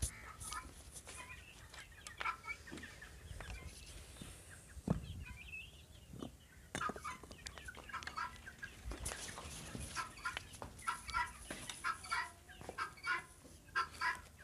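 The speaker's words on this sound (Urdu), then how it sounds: "یہ جو مرغا آپ دیکھ رہے ہیں یہ میاں والی نسل کا ہے۔" Aseel chickens of the Mianwali breed cluck and call in short, scattered bursts close by, with soft rustling and pen noise in between and no talking.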